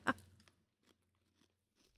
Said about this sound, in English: You probably hear it crunching.